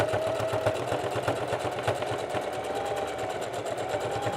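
A sewing machine runs through hoodie fabric with a steady, fast needle-pulse rhythm, close and fairly loud, with no talk.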